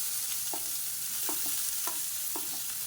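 Finely chopped medium-sized large onion frying in a pan, a soft steady sizzle broken by several scrapes of a spoon stirring at a loose, regular pace.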